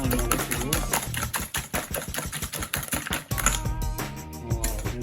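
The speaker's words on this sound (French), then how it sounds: "je viens fouetter jusqu'à ce que l'obtention d'un mélange parfaitement homogène" A whisk beats eggs and sugar in a bowl for a caramel egg custard, producing a fast, steady run of clicking strokes against the bowl while a voice speaks over part of it.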